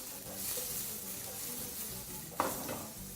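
Garlic and white onions sizzle in hot oil in a pan for a chicken and broccoli pasta stir fry. Close, steady frying hiss with stirring scrapes and one sharp clink of utensil on pan.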